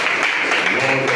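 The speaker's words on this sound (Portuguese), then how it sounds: "Vamos aplaudir a Jesus por essa noite." A church congregation applauding during a service, a brief dense burst of clapping filling the space.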